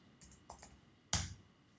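Several soft computer keyboard keystrokes tapping out a command at a prompt, a few quiet clicks followed by one louder key press, close and otherwise quiet.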